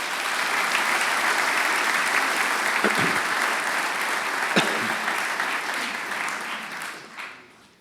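Audience applause at a formal ceremony marking 150 years of organised Croatian mountaineering, greeting invited guests and delegates: steady, dense clapping from a large hall crowd throughout, fading out near the end.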